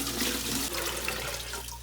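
Water splashes and pours from a large bucket into an anole paludarium, a dense, continuous gushing rush that stays loud and close throughout with slight fluctuations.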